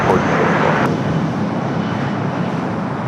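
A loud, steady jet roar fills the air as an airliner takes off from runway 25 Right at LAX, with a broadband engine rumble that holds constant throughout.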